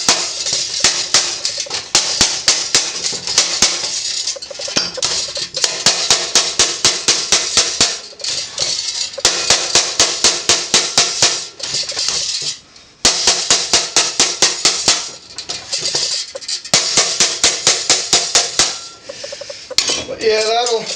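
Rapid, loud, ringing hammer blows on a metal piece being cold formed and bent round, coming in steady bursts of strikes with brief pauses between them, close up and with no talking.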